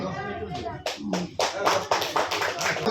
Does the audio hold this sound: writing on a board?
no